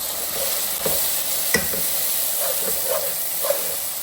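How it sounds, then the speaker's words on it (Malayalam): Chili powder is stirred into a sizzling frying pan, giving a steady close hiss broken by a spoon's scraping strokes and light taps against the pan. "ലേശം മുളക് പൊടി കൂടി ഇട്ടിട്ട് കളക്കണം"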